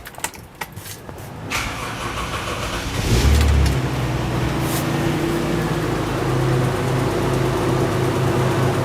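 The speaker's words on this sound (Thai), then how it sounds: "คันนี้เครื่อง1J ครับเครื่องเงียบมากครับเครื่อง 1J ขออนุญาตฟังเสียงได้ไหม" A classic car with a quiet 1J engine cranks with a few clicks, fires up, then settles into a smooth, steady idle nearby.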